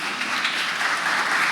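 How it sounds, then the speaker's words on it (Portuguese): Audience at the close of a forum panel in Rio de Janeiro breaks into a brief, dense burst of steady clapping that fills the room, with no voices heard over it. "uma salva de palmas merecida para todos"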